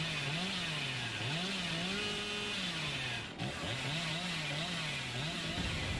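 Hillbilly's chainsaw revving in the Dead by Daylight video game, a loud continuous buzzing engine drone that rises and falls in pitch, with a brief dip midway; a voice speaks briefly over it.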